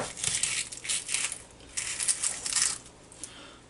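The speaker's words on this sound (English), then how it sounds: "now the next thing we'll do is cut up this onion" Knife slicing through an onion on a cutting board in a home kitchen, crisp crunching cuts in short bursts, close and clear with no talking.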